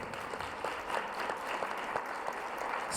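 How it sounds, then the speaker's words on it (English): Audience at a community forum on domestic violence giving a round of applause, steady soft clapping heard somewhat distant and fairly quiet throughout. "give her a round of applause"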